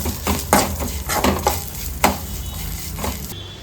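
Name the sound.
frying pepper, poppy seeds, garlic and ginger in pan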